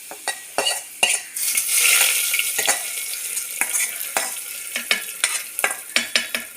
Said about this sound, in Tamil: இப்போ நல்லா தாளிப்பு நல்லா ரெடி ஆகிட்டு இப்போ இந்த கீரையில் அதை ஊற்றிக்கிது.